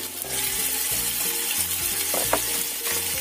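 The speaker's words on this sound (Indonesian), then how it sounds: "Kita tumis sampai tercium bau enak." Finely ground spice paste sautés in a hot pan with a loud, dense, steady sizzle and a quick scrape of a spoon near the end.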